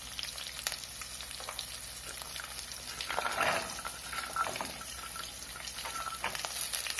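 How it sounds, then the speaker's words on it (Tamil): Ginger is heard sautéing in ghee in a pan, making a close, steady sizzle and fry with a few brief stirring scrapes and bursts partway through, and no voice over it. "இப்ப பாருங்க, இஞ்சி நல்லா வதங்குது"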